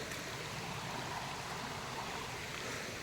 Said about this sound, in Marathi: ही नदी आहे